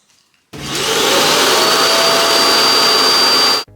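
A SwitchBot K10+ robot vacuum dock empties the dustbin: a loud, close whooshing roar of suction starts abruptly, holds steady for about three seconds with a thin whine on top, then cuts off.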